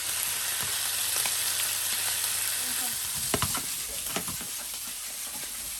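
Kidneys sauté in a hot pan with a steady, bright sizzle, broken by a few sharp clatters and scrapes as they are flipped and tossed.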